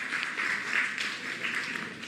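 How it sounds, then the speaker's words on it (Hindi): Hall audience at an International Women's Day gathering applauding, a steady patter of many hands clapping at moderate volume for the full moment. "एक बार तालियां हो जाए आप सबके लिए"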